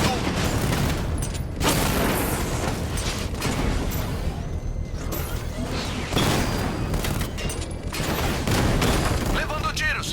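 Gunfire and explosive booms from the Batman Arkham Knight video game, dense bursts of shots and blasts layered continuously with game dialogue throughout.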